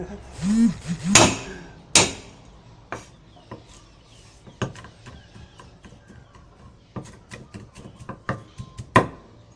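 Sharp percussive whacks and thuds as garlic cloves are smashed on a board, irregular and close, a few loud blows among quieter taps and clatter.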